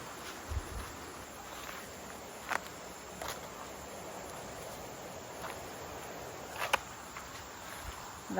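Giant tree frogs calling at night in Northern Range forest, a steady dense chorus of high trilling calls filling the background, with a few sharper nearby clicks and rustles on top, no voices.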